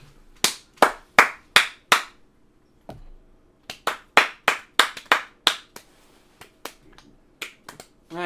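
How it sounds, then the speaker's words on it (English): Sharp hand claps ring out close and crisp, a quick run of four, a pause, then a longer irregular burst of claps with a few scattered ones after. "It's called a round of applause"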